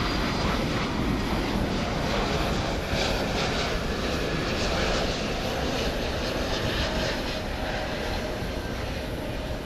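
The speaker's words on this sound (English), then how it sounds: "catch the final moments of flight of American 2732 coming in from Los Angeles. This is what you call your Airbus A321neo." An American Airlines Airbus A321neo landing at Dallas Fort Worth Airport at night, its jet engines roaring loud and close in a continuous broadband rush with a slight rise and fall.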